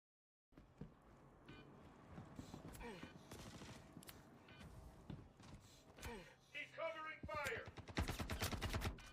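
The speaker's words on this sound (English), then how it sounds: "That's a lot of gunfire." Rapid bursts of video game gunfire, single shots and automatic volleys, growing denser toward the end, with a voice reacting faintly in between.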